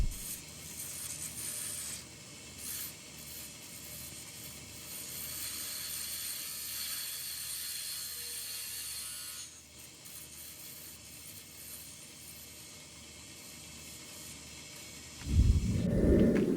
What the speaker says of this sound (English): I'm just using it to slowly try and round those edges of that knob